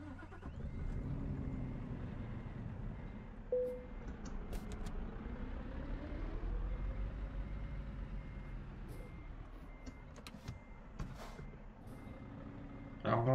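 Simulated truck in Euro Truck Simulator 2 with a V8 engine, rolling forward with a steady low engine drone throughout, a reversing-style beep near the start and brief clicks and a rising burst at the end.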